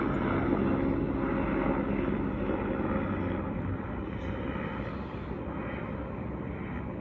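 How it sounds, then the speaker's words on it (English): Helicopters pass overhead outside a house, a steady low rotor and engine drone that holds broad and loud, then eases slightly in level, with no talking. "Now there's helicopters after that noise."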